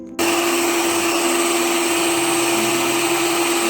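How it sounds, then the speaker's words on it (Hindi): An electric mixer beats eggs with sugar for a black forest cake. After a brief silence it starts abruptly and runs as a steady, loud, close whirring drone with no talk. "अब इसी तरीके से मैं तीन हिस्सों में इसे चीनी को डालूंगी और इसे डबल होने तक जो है बीट करूँगी"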